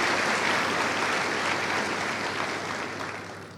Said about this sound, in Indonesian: Kita berikan aplaus untuk kita semua di sini.